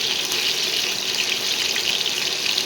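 Marinated chicken pieces for dry chilli chicken fry in a pan of oil, giving a steady, close, hissing sizzle with no talk.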